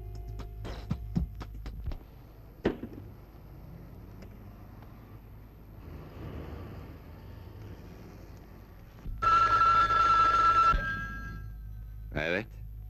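A telephone rings in a Turkish drama scene, one sustained electronic ring burst after clicks and background hum, followed by a short second ring.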